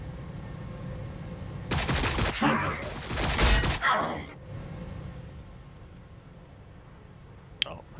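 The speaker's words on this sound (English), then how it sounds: "Oh, who are you shooting at?" Burst of rapid gunfire and explosions from a Necrons versus Tyranids battle in Warhammer 40,000: Battlesector, a dense two-second volley followed by a fading rumble and a brief sharp click near the end, with no talk.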